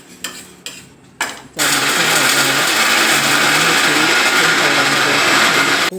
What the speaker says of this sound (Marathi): आता आपण याची ना बारीक मस्त मिक्सरमध्ये पावडर करून घेऊया